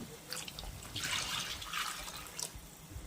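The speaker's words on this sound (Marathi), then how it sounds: "कढईत ओतलंय हे, त्यात पाणी घालूया" Soft splashing and trickling of water being poured into a wok of curry, a steady faint flow with a couple of brighter gushes.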